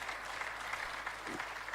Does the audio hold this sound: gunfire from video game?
no